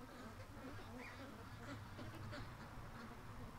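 Ducks quack in a low, busy chorus around a babysitting setting, soft and somewhat distant, with scattered honks among them and a murmuring voice under the birds.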